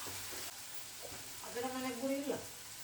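Tomato chutney cooks down in hot oil for an egg curry, a close steady sizzle under someone speaking, with a spoon stirring through it.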